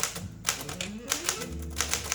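Keys strike on a 1938 LC Smith & Corona Sterling floating-shift portable typewriter, a close run of crisp, evenly spaced clacks with a low mechanical rumble beneath.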